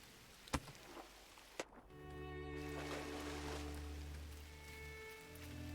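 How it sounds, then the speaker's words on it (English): Steady rain hisses and patters in the video game GRIS, a broad wash of noise over low droning tones, after a couple of sharp clicks at the start. "And because we have blue in the world now, it is raining."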